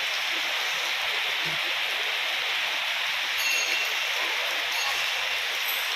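Steady, dense hiss of rain falling, constant and fairly loud throughout with no voices.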